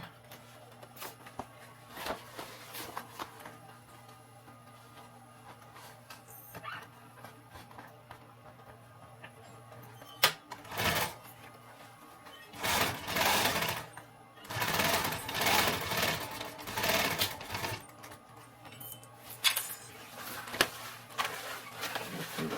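A sewing machine stitches back and forth along the side of a simple homemade backpack, running in several loud bursts with short pauses between them and faint background noise in the gaps.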